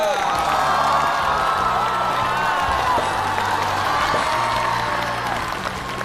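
A large studio audience applauds and cheers steadily at a comedy show, dense clapping with a few whoops sustained at loud volume throughout.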